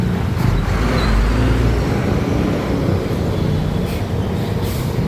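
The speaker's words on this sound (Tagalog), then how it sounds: "Traffic, ayan na po" Heavy road traffic with cars, buses and trucks on a busy street, heard as a loud, steady rumble and hiss that keeps going without a break, with a few brief higher swishes of passing vehicles and no talking.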